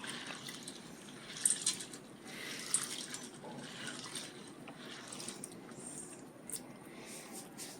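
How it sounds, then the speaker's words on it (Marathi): Sago pearls being rinsed by hand in a bowl of water: faint, soft sloshing and squishing with a few light drips and splashes, steady and quiet throughout. "हा पहा, आपण याला व्यवस्थित धुवत आहोत."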